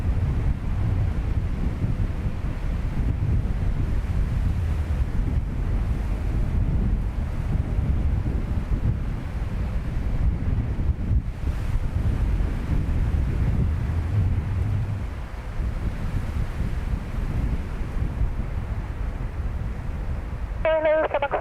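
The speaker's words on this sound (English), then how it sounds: "Let me know if that wind becomes unbearable and we'll swap out." Strong wind buffeting an outdoor microphone at Dublin Airport, a constant low rumbling roar throughout, with a faint brief tonal sound at the very end.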